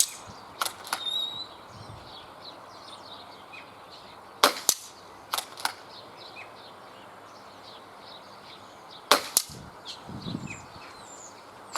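A BSA Ultra SE .25 calibre air rifle, sub-12 ft/lb, fires in an outdoor 25-metre test, giving sharp, quiet cracks in a few spaced pairs over faint birdsong.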